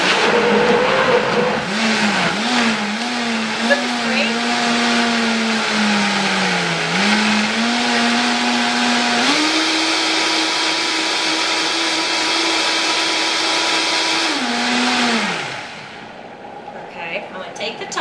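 A blender roars loudly and steadily, its motor pitch shifting a few times before cutting out near the end, with a voice speaking briefly over it.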